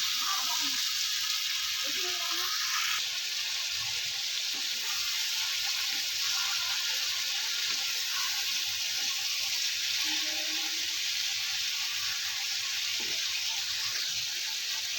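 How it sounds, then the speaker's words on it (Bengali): Turmeric and salt are stirred into frying prawns and ridge gourd in a pan, producing a loud continuous hiss of hot oil broken by scraping stirs, with faint watery bubbling underneath. "সামান্য একটু হলুদ গুঁড়ো আর নুন দিয়ে আমি এবার একটু ভালো করে নাড়াচাড়া করে নিচ্ছি"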